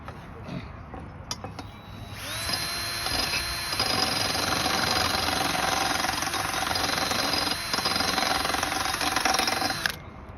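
A loud, steady electric drill sharpening a lawnmower blade, a high whining buzz running continuously for several seconds after a few brief bumps and starts.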